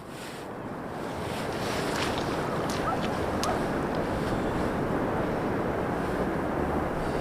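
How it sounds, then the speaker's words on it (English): Steady broadband wash of surf rolling onto a Northumberland beach, moderate rather than rough, with wind noise on the microphone and a continuous, even roar throughout. "Just nice surf rolling in for bass."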